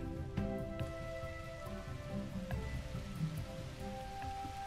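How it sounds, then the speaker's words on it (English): Rain falls steadily in the god-simulation video game Universim, a continuous soft hiss of drops with sustained game music tones underneath and no talking. "Okay, there's a natural rain."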